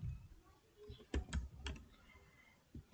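Python code is typed on a computer keyboard, a few quiet, close key clicks arriving in small irregular bursts with soft pauses between them.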